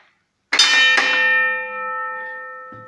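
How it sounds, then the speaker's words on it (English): Signal bell in Taylor's pumping engine house, struck once sharply and loudly, then a long ringing metallic tone that slowly decays in a large room. "this is the signal bell, which is designed to be heard in every floor of the engine house"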